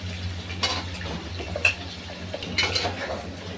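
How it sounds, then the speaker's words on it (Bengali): Teasel gourd, potato and pointed gourd are stirred into spice paste in a pan for a coral fish curry, with a few scattered metallic spoon clinks and scrapes over a faint low sizzle. "সবগুলো দেওয়ার পর মশলার সাথে ভালো করে নেড়ে নেব"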